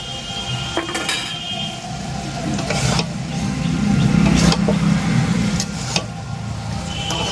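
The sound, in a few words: stirring and sautéing masala with yogurt in a pot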